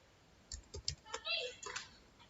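Short run of computer keyboard typing, several quick close clicks in an uneven burst, with a voice speaking softly over part of it.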